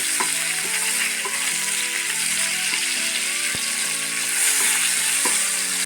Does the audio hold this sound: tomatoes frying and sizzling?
yes